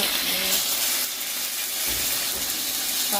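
Chopped tomatoes dropped into hot oil with mustard seeds in a pan, a bright steady sizzle and crackle filling the short moment, close and fairly loud.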